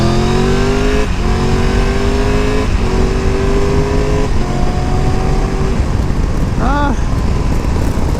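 A 2022 Triumph Tiger 1200 Rally Pro motorcycle engine pulls hard through several rising revs, with quick-shifter upshifts dropping the pitch roughly every second or so, loud and close under constant wind roar.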